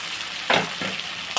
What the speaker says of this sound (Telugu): ఇప్పుడు అది ఇది కలిపి మనము వేయించుకుని బాగా మగ్గించుకుంటే